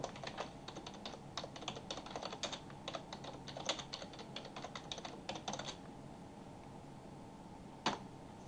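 Rapid clicking keystrokes on a computer keyboard, close and fairly quiet, coming in quick bursts for several seconds before stopping, then a single final key press.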